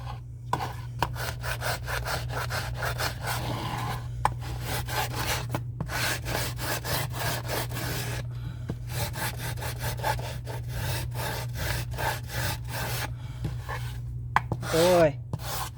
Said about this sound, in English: let's see if I can just sand it off.